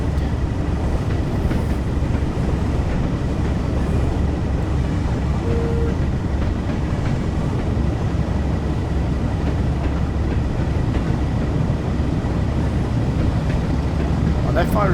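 Class 08 shunter moving carriages into a station on the West Cornwall line in Train Sim World 2, a steady dense rumble of rail running throughout, with a low constant drone and no clear individual clicks.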